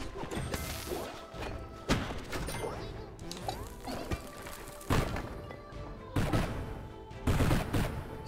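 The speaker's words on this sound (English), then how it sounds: "So much unnecessary explosion." Explosions in the Undermine video game come as repeated crashing blasts at irregular intervals, each a sharp loud burst over a dense, busy layer of game noise.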